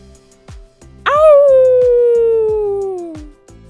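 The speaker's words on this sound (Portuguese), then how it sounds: "Lobo grita de dor e corre para mato." A wolf yelps in pain in a story sound effect: one long, loud, falling cry that fades out over about two seconds, set against a steady rhythmic ticking pulse.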